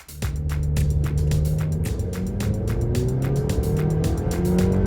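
A Nissan Sentra driving, with steady road and engine noise throughout, a low constant drone under a busy broadband tire and wind rush, close and continuous with no talking.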